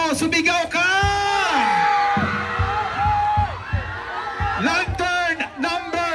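A crowd at a lantern contest bellows and whoops in long loud yells that rise and fall, with an announcer's amplified voice and scattered shouts overlapping throughout.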